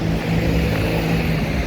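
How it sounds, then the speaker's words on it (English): Street traffic outside, a steady broadband rumble and hiss of passing vehicles, continuous and fairly loud with no clear single event. "I'm sorry for the street noise."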